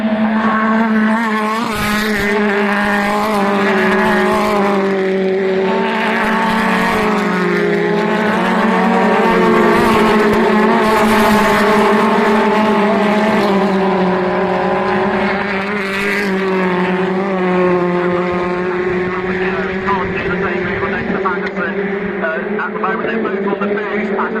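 BTCC touring race cars lapping Oulton Park and leading into Lodge Corner, their engines producing a loud, continuous, layered howl that rises and falls with gear changes beneath steady race commentary.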